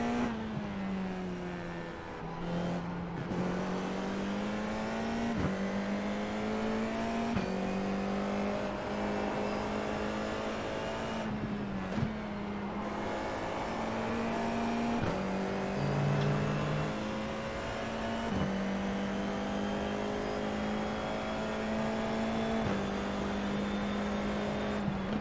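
Formula iR04 race car engine in the iRacing simulator at Okayama, a continuous loud high whine that rises with each gear and drops sharply at several upshifts and downshifts across the lap.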